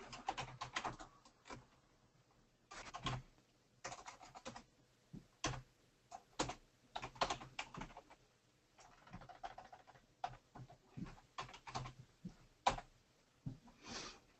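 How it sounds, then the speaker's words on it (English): Someone types a query on a computer keyboard, quiet bursts of rapid clicking keystrokes with short pauses between them. "Right now I'm just typing a query."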